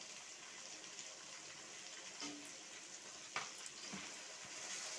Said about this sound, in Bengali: এইগুলো ভালো করে আমি কষিয়ে নেব।